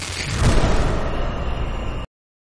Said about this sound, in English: I think an explosion happened.